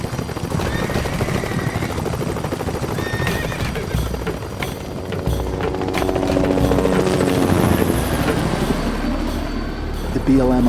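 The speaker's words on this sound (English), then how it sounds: "You can hear the helicopter right above me." A helicopter hovers low directly overhead during a Bureau of Land Management wild horse roundup in the Wyoming high desert. Its loud, dense rotor chop mixes with horse whinnies, hooves and voices.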